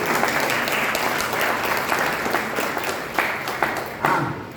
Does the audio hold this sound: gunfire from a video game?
no